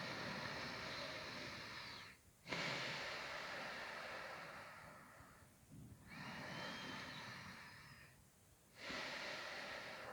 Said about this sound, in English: Let's just take a couple breaths here.